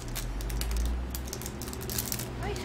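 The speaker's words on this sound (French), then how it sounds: "On va l'enlever du papier." Crinkling and rustling of paper as a small badge from a monthly subscription box is unwrapped close up, a continuous crisp crackle with quick irregular ticks.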